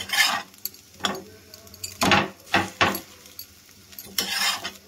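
Bread slices toasting on a hot tawa griddle, a series of soft scraping and sizzling bursts as the slices are pressed and turned, close and moderately quiet with pauses between.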